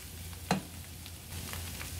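A chicken and mushroom white sauce with milk and cream is stirred in a pan, a soft steady sizzle and bubbling close by, with one sharp utensil knock near the start.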